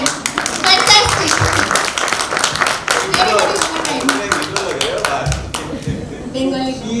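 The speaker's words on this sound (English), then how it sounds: "Clap for him." A lecture audience claps along with scattered, uneven hand claps, some loud and close, while voices talk over the clapping.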